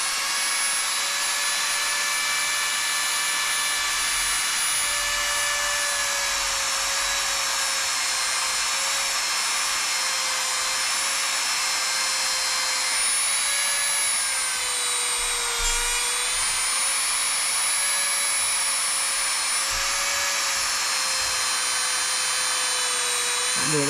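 Polishing wheel working a Glock trigger bar on a Gforce RPX9, a loud continuous high-pitched motor whine with steady tonal hum, holding nearly constant pitch with slight dips as the part is pressed against the wheel.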